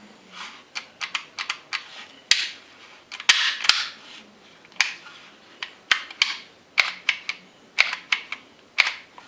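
An HK USP .45 pistol goes through a function check, with sharp metallic clicks from the safety, decocker, trigger and slide coming close and crisp in irregular pairs and clusters, with no talking.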